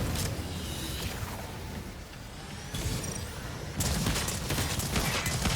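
Rapid shotgun blasts in the sci-fi shooter Exoprimal, dense bursts of gunfire in loud volleys with a brief lull midway before the shooting resumes, heavier near the end.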